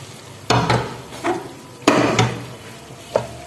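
Vegetables being stirred into fried chicken masala in a pan, heard as several distinct scraping, clattering stirs spaced out over a few seconds, with a soft frying hiss underneath and no talking.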